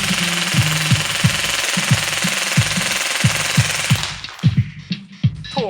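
A JG M4 CQB-R airsoft gun fires in an automatic stream, rapid mechanical clatter running continuously for about four seconds, then breaking into a few separated single shots, loud and close with no talking.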